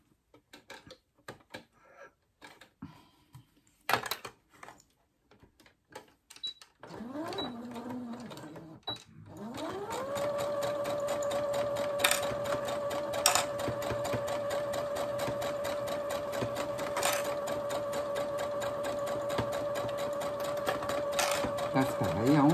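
Sewing machine stitching fabric for a children's cloth drawing book, starting with forward and reverse stitches: after some handling clicks, the motor whirs up and runs steadily and loud for a long stretch, with a voice speaking over the start.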